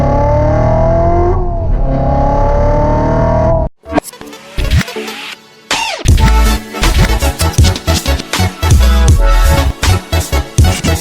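A 2015 Chevrolet Corvette C7 Z06 drives by loudly, its engine note rising in a steady tone, then a sharp break and a burst of revving with rapid pulsing bursts and gear-change dips, close and alone without talk.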